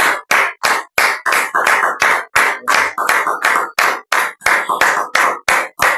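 A church congregation claps together in a fast, steady rhythm, loud and near, with no voices over the applause.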